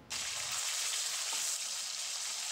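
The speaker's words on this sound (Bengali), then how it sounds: "মাছগুলো আমি উল্টে পাল্টে ভেজে নেব।" Pieces of rohu fish fry in hot oil in a Bengali home kitchen, giving a steady, close, bright sizzle that starts abruptly and holds evenly throughout, with no talking.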